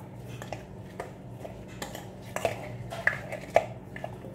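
Sea moss seafood salad with parsley being mixed in a bowl, giving soft scattered clinks and scrapes of a utensil against the dish, a few sharper taps toward the end, fairly quiet with no voices.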